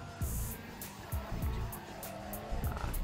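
Cars racing in an old video game run on a 2005 gaming PC: a steady engine drone with short tire squeals and quick passing swooshes, fairly quiet, with no talking over it.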